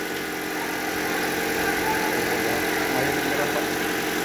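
A 2014 Toyota Altis engine idles after a fresh ignition coil and spark plug change, giving a steady, even hum with constant loudness and no voices.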